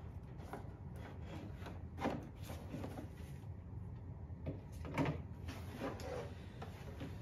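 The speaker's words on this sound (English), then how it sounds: "And then next, I'm going to remove the filter." A filter is pulled out of a Pure Enrichment air purifier, giving close rubbing and scraping sounds with a few louder scuffs and no talking.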